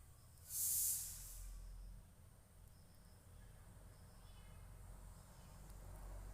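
A short, loud hiss bursts out near the start as hot tempering is poured into jaggery vermicelli payasam, then fades into a softer steady sizzle with low background rumble.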